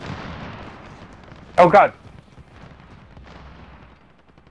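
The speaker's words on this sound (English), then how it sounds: "I just sniped someone" A sniper rifle fires once in the video game Warzone, a loud, close burst with a short echoing tail, while people chat over game background noise.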